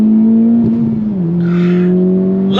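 Honda Civic Type R FK8 hot hatch with modifications accelerating hard on throttle after a downshift to second gear, a loud steady engine drone that dips briefly and then climbs in pitch.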